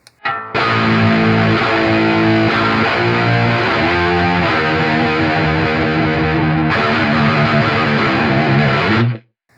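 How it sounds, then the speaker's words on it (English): A heavily distorted electric guitar through an Axe-Fx III plays loud sustained doom metal chords and riffs, with a roomy, amp-in-the-space ambience, then cuts off sharply. "Gives you a little bit more of that amp in the room kind of sound."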